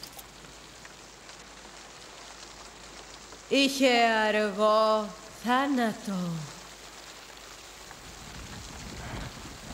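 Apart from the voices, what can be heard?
rain falling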